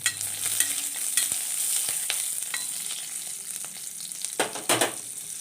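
Steady sizzling of curry leaves and shallots frying in a hot pan, crackling throughout with a few sharper bursts of spattering near the end; no voices.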